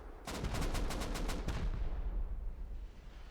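Rapid artillery fire rattles in the game Rust during a 7v7 base-raid tournament, a quick burst of about nine evenly spaced sharp reports followed by a lingering low rumble that fades, moderately distant.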